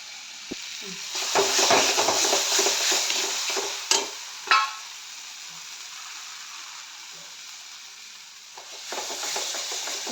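Spice masala sizzling and frying in a pan for a small-fish curry, with steady stirring scrapes and a hissing sizzle that fades midway, a couple of sharp utensil knocks, then the sizzle returns near the end.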